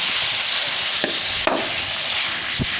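Onions, tomato and bell pepper with pieces of meat are stirred in a cooking pot, giving a steady close sizzle broken by a few soft scraping strokes of the spoon.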